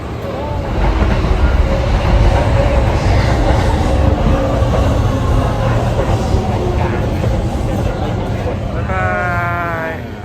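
Loud rumbling of a moving train in Osaka, Japan, with rattling wheels and hiss, a few voices talking over it, and a brief squeal near the end.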